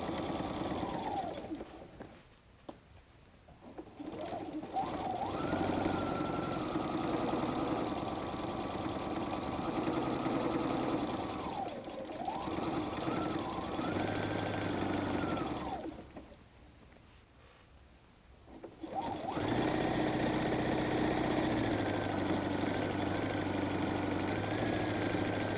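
Sewing machine stitching through all the layers of a messenger bag, a steady close mechanical whir running in long bursts with two brief pauses between them, no talking.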